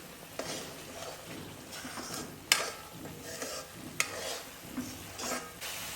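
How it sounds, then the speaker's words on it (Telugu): A spoon stirs a curry with garam masala in a pan. Scraping and soft clinks repeat steadily over a low sizzle, with a few sharper taps standing out. "ఒక స్పూన్ గరం మసాలా, ఇవన్నీ వేసుకొని బాగా కలుపుకుందామండి."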